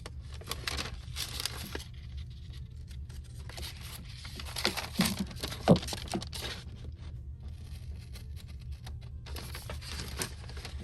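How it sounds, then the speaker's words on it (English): Scissors cutting through a paper junk mail envelope along drawn lines for a junk journal, with soft snips and crinkling heard up close in short bursts over a low background hum. "we're going to just cut inside my lines over here"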